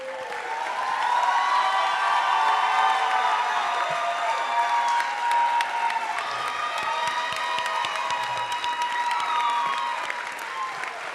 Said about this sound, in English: let me let you keep applauding. Applaud a little bit more.